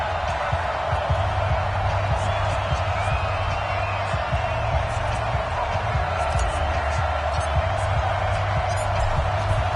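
Home stadium crowd in a football video game cheering for the Miami Dolphins before kickoff against the New England Patriots, a continuous roar with low rumbling and scattered claps.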